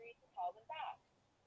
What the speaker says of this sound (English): No, that's my phone gone off.